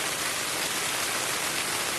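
Calm, steady rain falls on and around a tent at a solo motorcycle campsite, a dense even hiss of drops drumming on the fabric, close and continuous with no talk.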